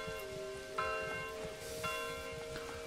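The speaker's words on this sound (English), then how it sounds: "We've got the noise of the bells now." Church bells ring in a medieval village in the Manor Lords video game, several resonant strikes at regular intervals sustaining over a soft ambient bed of rain-like rustle.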